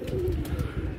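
Pigeons give a short, low coo at close range, a warm throaty murmur lasting about a second with no voices.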